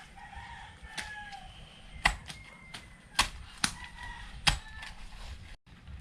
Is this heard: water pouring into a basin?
no